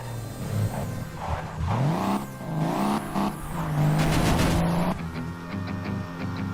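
A car driving in the video game Crash Time 5, with an engine that revs up and down in rising and falling sweeps and a brief burst of tire noise, loud and close, then settling lower near the end.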